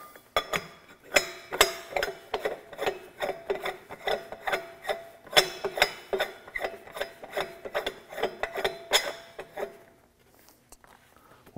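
A cap threaded back onto the nitrogen valve of a Danuser Hornet post driver, giving a steady run of small scraping, clicking turns in a close, even rhythm that stops near the end.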